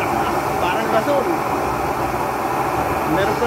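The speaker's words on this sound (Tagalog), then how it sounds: "Meron lang siyang pinaka-blower" Blower fan on an outdoor cooking burner fueled with used cooking oil, giving a steady, loud broadband roar that holds constant throughout, with voices talking faintly underneath.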